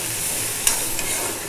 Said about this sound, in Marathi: आपण 2 मिनटं हा कांदा तेलावरती चांगला परतून घेऊया